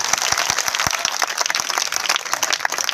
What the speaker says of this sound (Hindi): बढ़िया लगा तो ताली बजा दियो